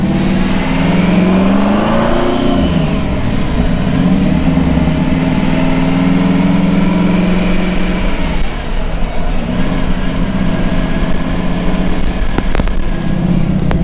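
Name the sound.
supercharged hot rod engine whine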